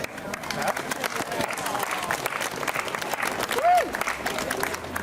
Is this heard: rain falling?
no